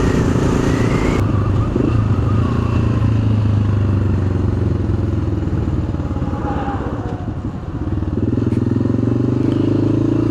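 A single-cylinder thumper motorcycle rides along back roads, its engine droning loud and steady up close with wind rush and clatter, easing briefly before building again.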